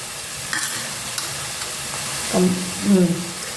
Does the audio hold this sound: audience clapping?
no